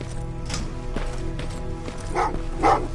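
In the video game Terminator Resistance, a dog gives two short barks in quick succession near the end. The barks rise above a steady low background hum and ambient game sound.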